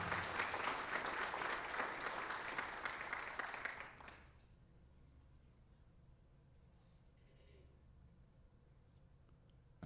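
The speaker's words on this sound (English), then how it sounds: "let's give a round of applause for Gianna Masker as she signs for tennis" A crowd applauds steadily for about four seconds at a high school athletics signing day, then the clapping stops abruptly, leaving a quiet room with faint background noise.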